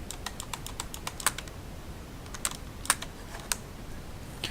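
A computer mouse is double-clicked repeatedly, making quiet, crisp, close-up clicks, some landing in quick pairs, against a faint hiss.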